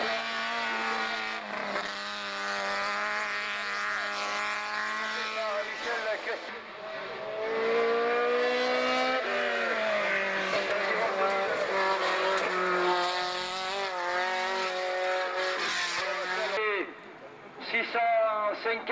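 Group C3 race cars weighing 670 kg driving on a circuit, their engines revving loud and high with rising and falling pitch as they pass nearby, heard under continuous commentary.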